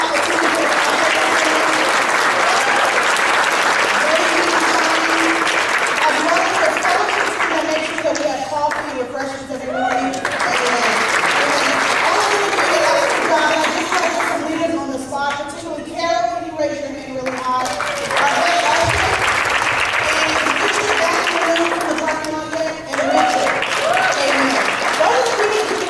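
Sustained applause from a crowd, steady and loud throughout, with scattered voices and shouts rising through the clapping.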